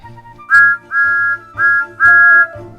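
A human voice whistles to imitate the steam engine whistle of Thomas the Tank Engine: four clear, sustained toots in a row, each cut by a short gap, the last slightly longer.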